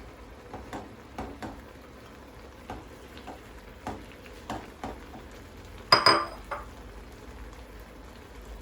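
Noodles stirred into tteokbokki sauce in a pan, a series of scattered utensil scrapes and taps against the pan over a low sizzle, with one sharp clatter near the end.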